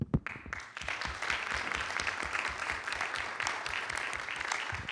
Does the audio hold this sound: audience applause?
yes